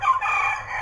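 A human voice imitates a rooster crowing, one short, bright cock-a-doodle-doo call lasting under a second, close and clear with no other talk.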